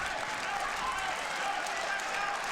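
The crowd in a judo arena at the 2018 Hague Grand Prix applauds in a dense, steady wash of clapping that holds level throughout, with a voice faintly audible under it.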